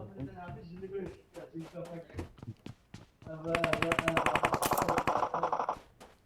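Automatic gunfire in PUBG Mobile on the Miramar map, with scattered shots at first, then a sustained loud rapid burst, while players talk over it.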